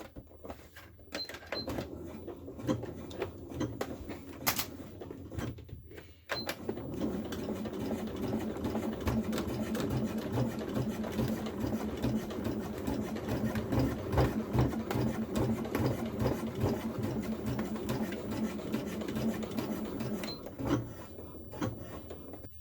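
Sewing machine stitching a small fabric pouch, a close, rapid rhythmic whir of needle strokes running in long bursts, with short pauses and a few light clicks between them.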